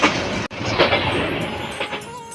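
Inside the Teesta Express on the run from Dhaka to Dewanganj, the train rolls along the rails with a loud, steady rumble and rattling, broken by faint rhythmic clacks.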